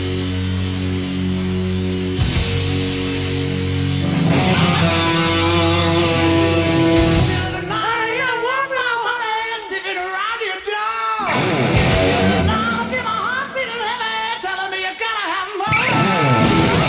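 A famous song with electric guitar plays loud and continuous, bright sustained distorted tones and shifting chords running through, with a brief drop in the middle before resuming.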